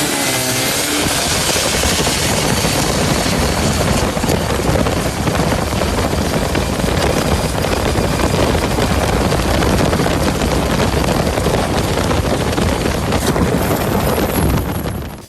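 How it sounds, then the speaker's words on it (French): Loud, continuous roaring V6 car engine powering a boat, with a rapid throbbing rhythm like a motorboat at full throttle, close and sustained before cutting off at the end. "Il s'agit d'un moteur à 6 cylindres en V qui est généralement équipé sur les voitures."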